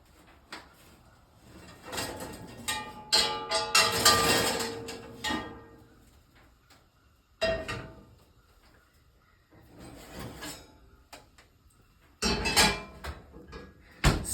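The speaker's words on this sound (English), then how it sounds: "here's the scary part, is pulling out the 500-degree pans" Hot 500-degree pizza pans pulled from an oven one at a time, heard as metallic clatters, scrapes and bangs in irregular bursts close by, with quiet gaps between them.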